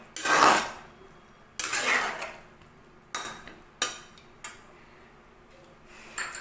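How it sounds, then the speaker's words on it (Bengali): Fish manchurian with a cornflour batter being stirred in a pan: about six separate scraping clinks of a spoon against metal, close and fairly loud, with quiet gaps between them. "এটাকে মিশিয়ে নেব।"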